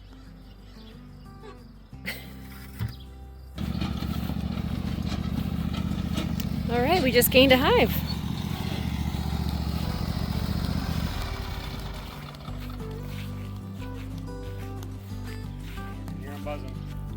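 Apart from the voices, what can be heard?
lawnmower engine driving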